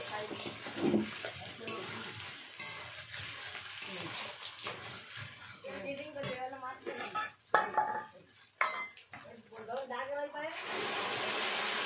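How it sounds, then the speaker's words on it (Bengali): Water poured into a pan of thin rohu fish curry spiced with turmeric and cooked without onion or garlic; utensil clatter and scraping give way to a steady, close rushing hiss at the end. "এখন দিয়ে দেব পরিমাণ মতো জল।"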